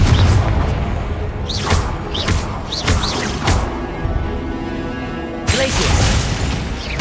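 Confringo blast spells explode in Hogwarts Legacy during the Percival Rackham trial, a run of booming bursts with crackling debris over a continuous game soundscape, repeating every second or so and fairly loud.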